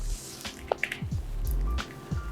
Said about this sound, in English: I'm pouring the water in this glass in front of you.